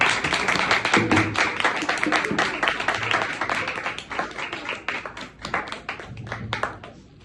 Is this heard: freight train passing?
no